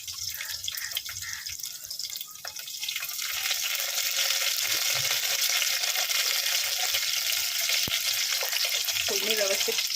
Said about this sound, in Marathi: फोडणी व्यवस्थित परतून घ्यायची